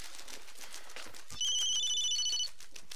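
A telephone rings once in a sustained electronic trill partway through, fairly clear over a quiet indoor background.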